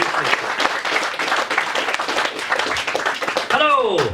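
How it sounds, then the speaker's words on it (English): Audience at a hypnotist show breaks into a burst of applause, dense clapping that swells and continues for a few seconds, with a voice speaking over it near the end. "Give him a big round of applause,"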